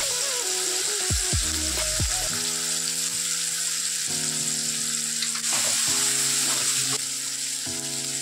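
Turmeric, chilli powder, coriander-cumin powder and peas sizzle steadily in a hot pan of oil, with a brief stirring clatter early on and the frying hiss continuing alone throughout.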